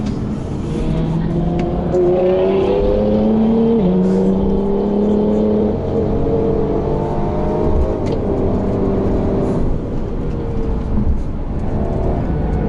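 A 2019 Mercedes-Benz C300 AMG accelerates hard, its engine note rising through the gears in loud sweeping climbs with a shift drop, heard from inside the cabin, with a voice briefly audible.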